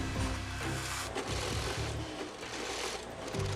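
An industrial sewing machine stitches a CADPAT jacket with strong plastic thread at a factory sewing station, a dense, busy mechanical chatter running steadily throughout.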